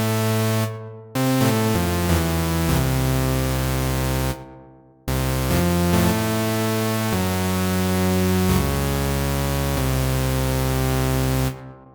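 A dry, buzzy virtual analog synthesizer oscillator tone in UVI Falcon 2, with reverb and delay off, holds steady with stepping pitch changes, breaking off briefly twice; rich harmonics and no reverb tail.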